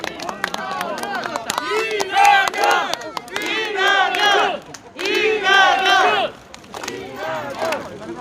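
A large crowd at a Democratic Party election campaign rally in Namdong, Incheon, chanting and cheering in loud rhythmic bursts, with shouted voices rising and falling throughout.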